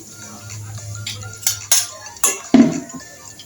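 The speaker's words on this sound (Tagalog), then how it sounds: "Haloyin lang po natin ng tuloy-tuloy hanggang sa dumikit po yung mga asukal sa ating pong saging na saba." Saba banana stirred with sugar in a pan, heard as four or five sharp, close scrapes and clinks of a utensil against metal, spaced irregularly over a quiet background.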